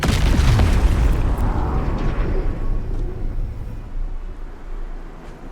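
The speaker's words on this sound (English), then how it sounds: "Caralho, bomba." A bomb explodes in the game Baldur's Gate 3, a loud close boom with a rumbling tail that slowly fades over several seconds, and no talk over it.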